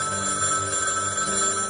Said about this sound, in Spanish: hasta que en la madrugada sonó el teléfono